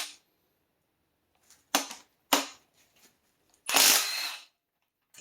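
Pneumatic impact gun on the oil pump bolts of a Honda K24A2 engine, heard as several short sharp bursts separated by silence and then one longer, louder rattling burst; no voices.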